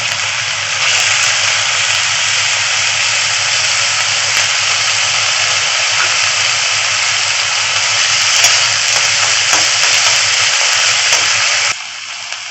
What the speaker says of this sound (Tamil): இந்த உருளைக்கிழங்கு போட்டு முதல்ல வறுத்துருவோம்